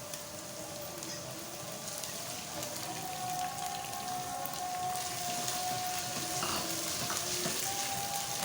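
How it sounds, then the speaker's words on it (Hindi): Golden onions with garlic ginger paste frying in a pan give a steady, dense sizzle and crackle, close and fairly quiet, with occasional stirring clatter and no talking. "अच्छी तरह से इनको फ्राई करें, गोल्डन ब्राउन सा कलर आना चाहिए।"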